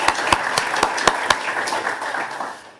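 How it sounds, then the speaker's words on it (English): At a state civics competition final, a small audience breaks into applause for absent winners, with distinct individual claps standing out at first and then thinning and fading out. "we should have a round of applause just for them"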